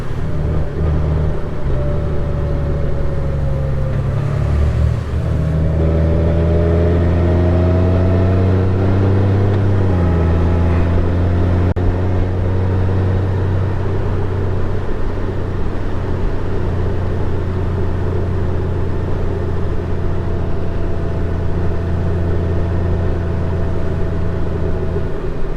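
A 2023 Honda Gold Wing motorcycle cruises along a scenic road, its engine a steady close-up drone that climbs and drops through gear changes over a constant bed of wind and road rumble, with no talking.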